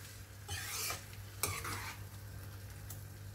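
Tomatoes and green chillies for a dhaba-style egg masala curry turned in a pan, two brief scraping stirs over a faint background sizzle, close and quiet.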